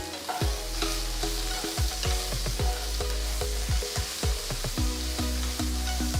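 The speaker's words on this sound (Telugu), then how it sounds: "అర టీ స్పూన్ పసుపు ఒక టీ స్పూన్ ఉప్పు వేసి అంత బాగా కలపాలి" Turmeric and salt are stirred into onions frying in a pan for vangi bath, with a steady sizzle under repeated scraping and knocking of a spoon against the metal pan, close and unbroken by speech.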